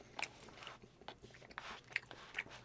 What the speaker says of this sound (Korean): 삼겹살 이렇게 있습니다. 먹어보겠습니다.